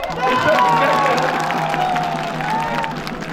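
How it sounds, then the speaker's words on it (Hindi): A large crowd at an outdoor election rally claps loudly and cheers, a broad sustained roar of applause with a voice calling out over it. "जरा जोरदार ताली बजा दीजिए बस"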